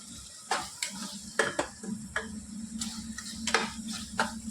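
Chopped tomatoes frying in oil in a pan for dhaba-style sev bhaji: steady close sizzle with repeated scraping and stirring clicks of a spoon against the vessel, no voices.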